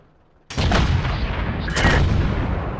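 Tank rounds strike and bounce off a tank's side armor in a video game. A sudden loud blast sets off sustained heavy rumbling, and a second impact follows about a second later.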